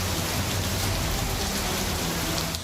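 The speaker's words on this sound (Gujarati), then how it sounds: "જુઓ, આ છે શિયાળાનો વરસાદ।" Winter rain pouring steadily in Gujarat, a dense, continuous hiss of drops on surfaces, loud and even throughout with no voices.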